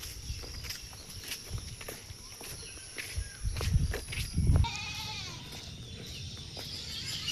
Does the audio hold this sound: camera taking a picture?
no